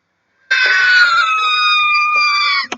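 A long, shrill, sustained scream from Black Canary, a female character, loud and close, lasting a couple of seconds before cutting off abruptly.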